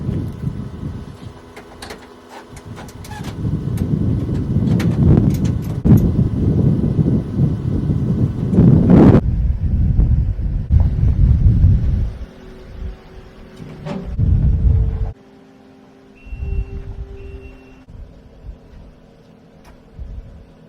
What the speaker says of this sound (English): Gotta love a windy day